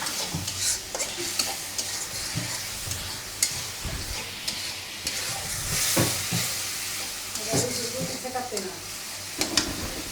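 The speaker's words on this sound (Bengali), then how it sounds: "এই যে মশলাটা কষানো হচ্ছে।" Spice masala is sautéed in a pan with a constant hissing sizzle and repeated spatula scrapes and knocks, close and busy, with faint voices in the background.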